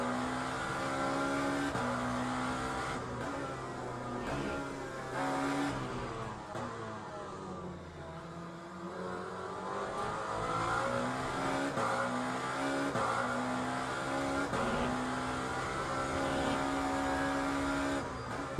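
A Lamborghini race car lapping Le Mans in Le Mans Ultimate roars steadily up close, its engine note climbing and dropping through gear changes with a brief lift and dip in pitch midway, then pulling hard again.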